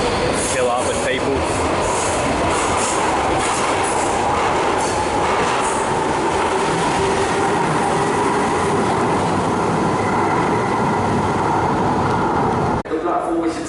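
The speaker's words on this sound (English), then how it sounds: "we've got a DLR train, I guess you'd call it, about to depart" A two-carriage DLR train pulls away from the busy Bank terminus in London, a loud continuous rumble of motors and wheels with squealing and clatter throughout, under a voice and station announcements, ending abruptly.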